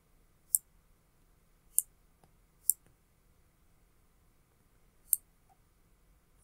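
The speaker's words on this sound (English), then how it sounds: "So I'm going to click Magic Select." Four sharp, isolated mouse clicks spaced irregularly over several seconds, close and quiet, while selecting Magic Select in Paint 3D.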